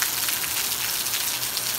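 A downpour of heavy rain falls steadily in a rural canton, an even, loud wash of drops drumming on surfaces nearby throughout.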